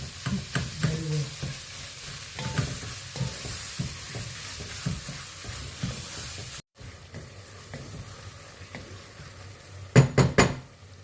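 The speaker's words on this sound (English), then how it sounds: "Add seasoning cube and stir until the minced meat cooks very well." Minced meat sizzles and fries in a pot while a utensil stirs and scrapes it in repeated strokes, with a few louder metallic clanks of the spoon against the pot near the end; no one speaks.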